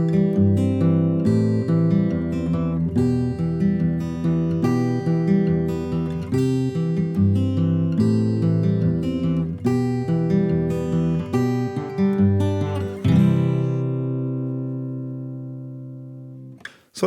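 An acoustic guitar plays a fingerstyle pattern from a song, a steady flowing run of picked notes with the thumb alternating across bass strings, ending on a ringing chord that fades out.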